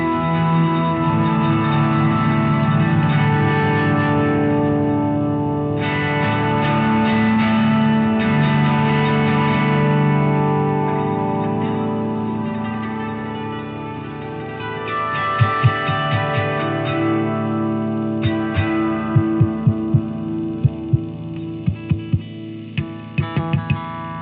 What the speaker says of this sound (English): I've just turned the reverb off, so now you can hear what it sounds like with no reverb.